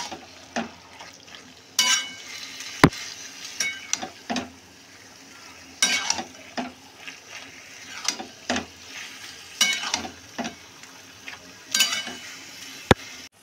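Taro leaves cooking in a pan are stirred with a utensil, giving irregular scraping clatters and knocks against the pan over a faint sizzle, with no one talking.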